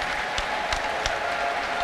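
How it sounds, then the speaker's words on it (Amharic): A church congregation claps in praise during a prophet's healing service, with steady group applause heard close and full, and a few sharper claps standing out. "ተነሱ፣ ቆሙና ለእግዚአብሔር ክብር አጨብጭቡ"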